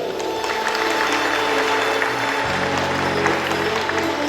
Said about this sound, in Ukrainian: Оплески Росавській гімназії.